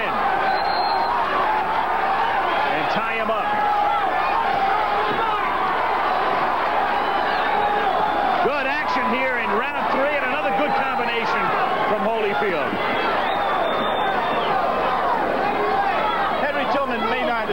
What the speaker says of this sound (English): Crowd chanting Holyfield as Pullman tries to bore in.